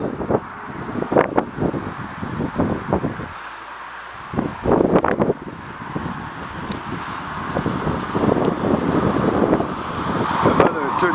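Strong wind outdoors buffets the microphone in uneven gusts and bursts of rumble, near and moderately loud, with traffic noise in the background.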